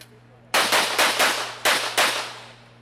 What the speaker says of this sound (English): That's a serious fast array right there of shooting.